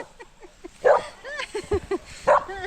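Several small dogs in rural El Salvador bark and yip in short bursts, some loud and close, with brief whimpering between barks.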